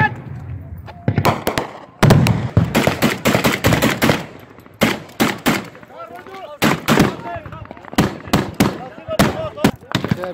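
Rifle gunfire in combat in Syria in December 2018: dense, loud, close bursts of rapid shots come in irregular volleys, with brief gaps, for the whole stretch.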